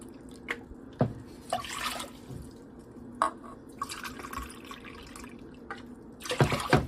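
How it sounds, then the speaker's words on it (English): Filtered water poured into a pot for cooking rice, heard as intermittent splashes and drips with brief louder gushes, close and alone without speech. "So I'm going to put in 3 cups of filtered water."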